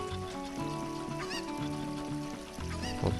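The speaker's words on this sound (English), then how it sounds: "I just see an angry chicken." An angry chicken in The Legend of Zelda: Ocarina of Time squawks and clucks in repeated short calls over a steady game music background, with louder cries near the end.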